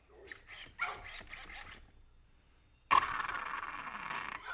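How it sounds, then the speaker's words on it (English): A dog barks five times in a quick, fairly close burst, followed by a pause and then a sudden loud broadband noise. "Yep, there's my dog."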